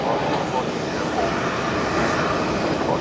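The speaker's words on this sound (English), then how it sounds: "635 just about to depart off to Melbourne." A Qantas airliner, flight 635, departing Brisbane Airport for Melbourne roars as a broad, steady, loud engine rumble.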